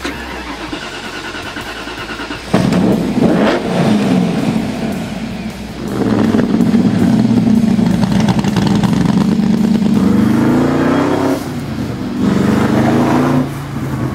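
An AC Cobra Shelby sports car with a 427 V8 tuned to 384 horsepower starts up, then revs loudly and close in repeated rising surges before dropping back to a rough, steady idle.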